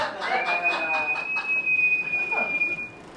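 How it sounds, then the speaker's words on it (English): A comedy show crowd member lets out a single sustained high whistle lasting nearly three seconds, held steady and clear over a murmuring audience and scattered laughter in the room. "It was a very long whistle, and I appreciate it."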